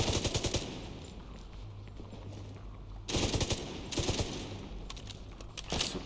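Suppressing gunfire in The Division 2 plays as several bursts of rapid automatic fire, loud and close, separated by quieter stretches of background hum.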